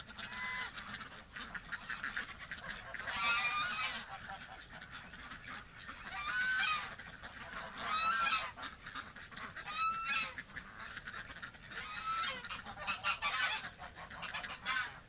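Ducks and geese in a barn honk and call in repeated bursts every second or two, a steady flock chatter with no voices, moderately loud and close.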